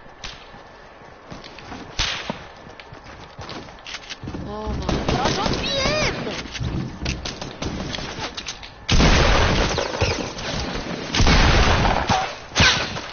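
Gunfire in a shooter video game, a series of sharp cracks and bursts, some loud and close, mixed with game effects and players talking over it.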